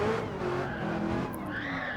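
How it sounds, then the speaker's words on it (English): A new Corvette fitted with a racing exhaust drifts sideways in a racing video game, its engine a steady, loud, high-pitched scream blended with tire squeal, sustained throughout with no talking. "this thing absolutely screaming with the racing exhaust on"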